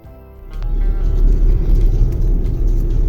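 A car rolls along a road, its steady low engine rumble and tyre noise rising after a quiet start and holding loud and close throughout.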